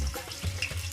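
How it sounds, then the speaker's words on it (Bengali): Small puti fish, rubbed with turmeric and salt, hit hot oil in a wok alongside onion and garlic, giving a brief, steady crackling sizzle that fades after about a second. "আস্তে আস্তে পুঁটি মাছটা কড়াইতে ছাড়া হলো।"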